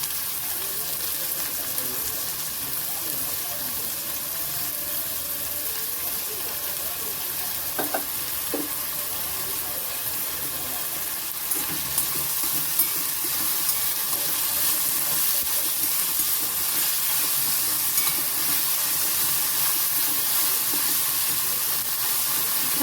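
Onion sizzles and hisses in a pan with curry leaves and tomato, a steady close frying crackle broken by occasional stirring clatter and spoon taps, with a louder burst of sizzle partway through.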